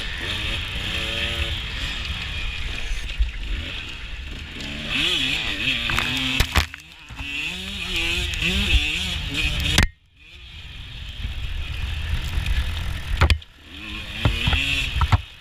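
A 150 dirt bike racing in a Portland Trail Riders hare scramble, its engine close and loud, revving up and down in rising and falling surges with brief drops as the throttle is cut.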